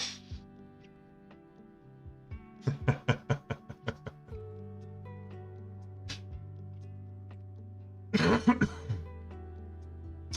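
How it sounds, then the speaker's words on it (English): A string of short, sharp coughs in quick succession, close and fairly loud, then a quieter stretch and another brief rough burst near the end. "Just as I cough."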